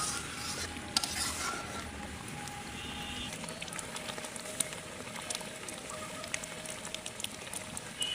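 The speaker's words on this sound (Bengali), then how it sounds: "তো আমি এখন হচ্ছে ফোড়ন দিয়ে বাগার দেবো।" Spices being tempered in hot oil for a mash, with garlic, onion and bay leaf going into the pan. A soft, steady frying hiss with faint stirring scrapes runs throughout, fairly quiet, with no talking.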